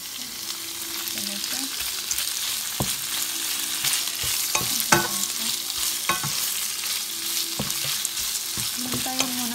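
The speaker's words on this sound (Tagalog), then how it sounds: "Ginger at saka onion nag golden brown na siya. So pwede natin ilagay ang pork muna." Pork hits a pan with golden-browned ginger and onion, giving a steady close sizzle and hiss of frying with intermittent clacks and scrapes of a utensil stirring, continuous without talk.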